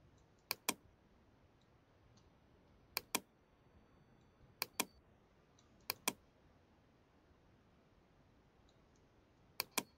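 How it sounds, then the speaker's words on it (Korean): Computer keyboard arrow keys pressed in quick pairs of sharp clicks, five double-taps spaced a second or two apart, close and distinct against a quiet room. "키보드의 방향키를 활용해서 상하좌우로 이동을 해주시면 되겠습니다."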